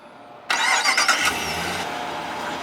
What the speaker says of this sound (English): You can also double tap on the key fob to remotely start it.